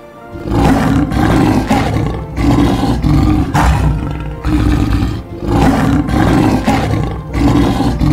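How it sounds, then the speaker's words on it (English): Leopard roar from a video game's sound list, heard as a series of loud, rasping roar bursts with short gaps between them, steady and close over about eight seconds, no voices. "Leopard."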